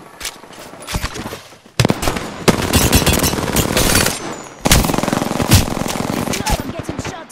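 Rapid automatic gunfire in a battle royale video game, dense bursts of shots crackling loud and close, pausing briefly before resuming, with occasional in-game voice callouts beneath.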